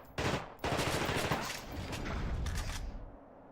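Gunfire in The Thing Remastered video game: two sustained bursts of loud, dense shooting, the second running on for about two and a half seconds before cutting off.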